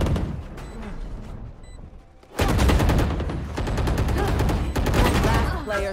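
Gunfire in a video game match, a dense loud stream of rapid shots bursting in after a quieter stretch and continuing steadily to the end, with a voice talking early on.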